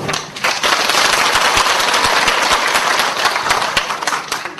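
A lecture audience applauds steadily, a dense wash of clapping that holds at an even level for several seconds.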